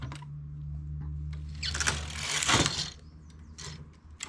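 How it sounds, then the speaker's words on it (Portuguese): A domestic knitting machine knitting rows of wool, with a mechanical clatter as the carriage sweeps across mid-clip, then quieter clicks and ratcheting of needles and gears over a low motor-like hum. "Aqui eu vou tecendo uma quantia que dê razoável para o comprimento da peça"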